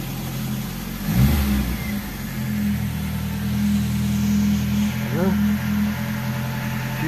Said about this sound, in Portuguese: Aí eu vou dar na partida, tá? Duas bombeadinhas lá no acelerador,